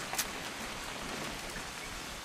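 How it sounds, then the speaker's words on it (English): Steady rain in the video game What Remains of Edith Finch, a soft, even hiss of falling drops continuing throughout with no voices over it. "It's gonna rain the whole weekend, isn't it?"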